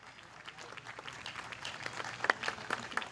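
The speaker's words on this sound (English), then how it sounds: "there's a big round of applause for that" Audience at a Greenhills, Ohio civic event breaking into a round of applause, scattered clapping building into a fuller, louder burst over a few seconds.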